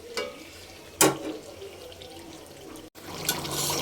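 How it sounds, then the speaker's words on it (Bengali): Water poured into a pan of sautéing domestic duck curry: brief splashing bursts and a steady running-water hiss, close and moderately loud, with a short gap before the flow resumes. "তারপর পানি দিয়ে দেবো।"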